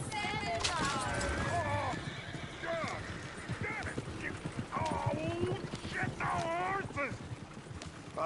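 Hooves clip-clop in a steady rhythm while a horse whinnies in Red Dead Redemption 2, with people talking over the top.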